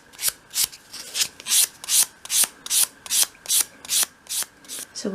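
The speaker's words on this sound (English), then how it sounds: "Finish that piece off in your hand using a piece of finer grade sandpaper" Hand sanding of a small wooden piece for a 1/12th scale storage unit with fine 500-grit sandpaper: a steady run of about a dozen rhythmic, close, dry rasping strokes, heard alone.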